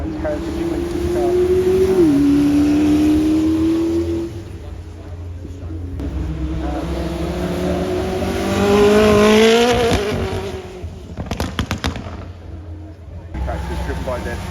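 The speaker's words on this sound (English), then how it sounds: "McLaren's heritage racing car." McLaren heritage racing car driving the hill course at the Goodwood Festival of Speed, its engine note rising and falling loudly through gear changes as it passes close by, with a brief spell of quieter running and background voices.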